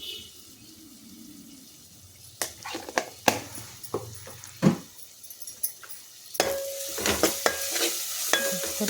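Onions frying in a pan with ginger garlic paste and turmeric for a chole curry, stirred with a spoon. A soft sizzle sits under scattered, sharper scraping clicks. The stirring grows busier and louder toward the end.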